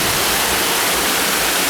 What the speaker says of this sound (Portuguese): Essa é a famosa Cachoeira do Macambeira.